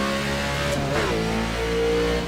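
A race car engine in the iRacing simulator holds a steady high drone, then shifts and climbs again in pitch as it accelerates. It is loud and continuous with no speech.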